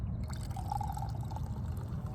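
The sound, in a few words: pouring carbonated water into a glass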